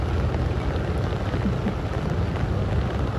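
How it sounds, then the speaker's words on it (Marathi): Steady rain pours down at an outdoor shoot location, a dense continuous hiss of drops with no pauses, loud and close throughout. "पाऊस जेवढा पाऊस पडेल तेवढा चांगलाच आहे."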